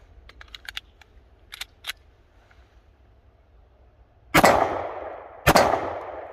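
A 9mm Glock 17 Gen 5 handgun fires two loud, sharp test shots with expansion primers, about a second apart, each ringing out briefly, after a few quiet mechanical clicks and handling sounds.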